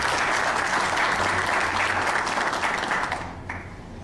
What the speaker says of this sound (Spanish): pedimos un aplauso para nuestros invitados